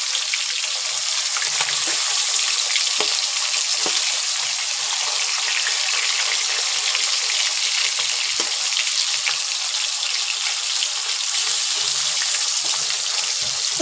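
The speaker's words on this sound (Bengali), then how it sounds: "খুব সাবধানে উল্টাবে কিন্তু, কারণ যেহেতু প্রচন্ড ফাটফাট করে ফাটছে মাছটা" Fish frying in hot oil, crackling and spitting loudly and continuously up close, with sharp pops scattered through a steady sizzle and no voices.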